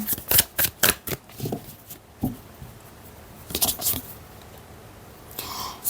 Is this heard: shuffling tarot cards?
yes